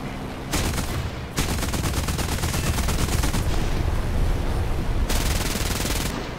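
A tail gunner's machine gun fires in the aircraft combat game War Thunder. Loud, rapid bursts start with a brief pause, then run almost nonstop, with a sharper burst near the end.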